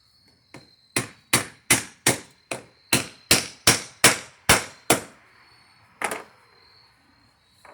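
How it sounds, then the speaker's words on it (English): A steady run of about a dozen sharp metallic hammer strikes driving fasteners through aluminum, evenly spaced and ringing, then a pause and one last blow. "Once I hammer them through the aluminum, screw them tight."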